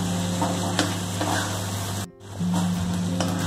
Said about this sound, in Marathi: आता आपला वाटाणा पण इथे छान परतून झालेला आहे